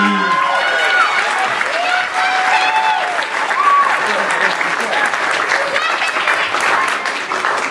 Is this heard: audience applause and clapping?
yes